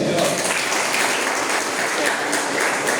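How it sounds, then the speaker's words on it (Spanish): Church congregation applauding during a Spanish-language sermon, a continuous wash of clapping and crowd noise filling the space, with voices mixed in underneath. "¿Cuántos le dan aplausos al Señor?"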